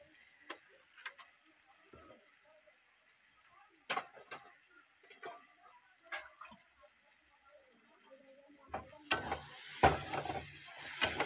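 Pieces of beef fat sautéing with spices at home: a faint, steady sizzle with scattered ticks and stirring clatter that grows louder near the end.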